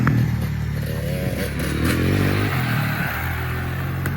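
A KTM 300 motorcycle engine runs after a crank seal repair, a loud, close two-stroke drone with a wavering rev that rises and falls, nobody speaking.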